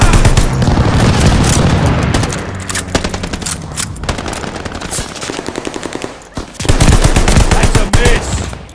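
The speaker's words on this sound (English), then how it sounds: "Strafing run is on the way. Allied airstrike coming in hot." Airstrike strafing run in Call of Duty Vanguard, a loud, dense roar of rapid machine-gun fire and booming impacts with a brief lull, then a renewed heavy burst.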